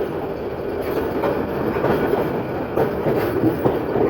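A meter gauge train runs through Akhaura station, a loud steady rumble of rolling wheels with clickety-clack beats and faint wheel squeal, close by.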